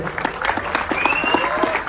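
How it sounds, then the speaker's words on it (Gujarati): An audience at the Jeev film premiere night claps for Kedar Bhargav, a brief, dense burst of close applause with some tonal sound behind it. "માટે હું તાળીઓ માંગીશ. કેદાર ભાર્ગવ થેલી અને ડાયરો માટે."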